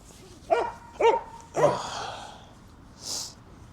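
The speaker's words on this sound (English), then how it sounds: "I wonder if that helps with the noise of that dog." Dog barking three times in quick succession, loud and fairly close, followed by a softer snort or huff, with no one speaking.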